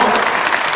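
Applause fills a hall at the 46th general assembly of the Baekseok Daesin Presbyterian church, a dense, loud burst of clapping from a large seated crowd.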